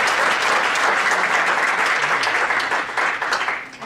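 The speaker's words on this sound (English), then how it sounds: "give another round of applause?" An audience at a city council meeting fills the room with dense, sustained applause that keeps a steady level before fading slightly at the end.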